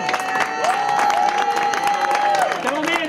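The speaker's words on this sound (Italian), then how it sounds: "un applauso anche a Pietro La Porta" Crowd applause at an outdoor event on Favignana: steady, dense clapping and cheering fill the whole stretch, with a sustained whistle-like tone riding over the clapping.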